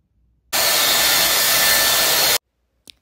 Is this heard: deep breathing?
no